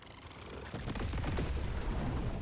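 Dense barrage of explosions and gunfire-like blasts in the video game Deep Rock Galactic Survivor, starting quietly then building into a loud, continuous crackling rattle.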